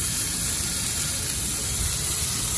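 A tomahawk steak sizzles on a grill right after being flipped, giving a steady, close, broadband hiss that stays even throughout with no talk over it.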